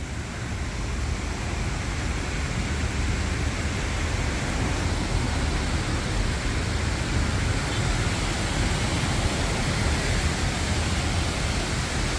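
Waterfall in Framingham, Massachusetts: a steady, loud, broadband rush of falling and flowing water, continuous and unbroken throughout with no voices.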